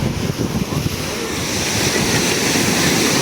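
Ocean surf rolls in continuously at a surf spot with many surfers, a loud, steady wash of breaking waves with wind buffeting the microphone.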